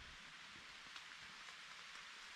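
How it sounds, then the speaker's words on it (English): Steady rain patters on leaves and ground in an Adirondack forest clearing, a dense even hiss heard close around the listener with no talk. "Really raining out now, and found this little clearing."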